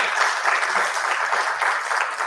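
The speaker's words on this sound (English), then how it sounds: "So I think first a big round of applause for Dr. Pratap Kumar over here." A medical conference audience at an assisted-reproduction conclave in Pune breaks into loud, dense applause for an honored doctor. The clapping is close and continuous throughout the short burst.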